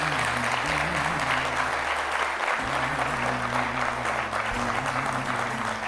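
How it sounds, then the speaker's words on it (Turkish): A studio audience applauds young guests on a live television talk show, dense continuous clapping with tonal music or voices running beneath it. "Gençlerimizi alkışlayalım bakalım şöyle bir"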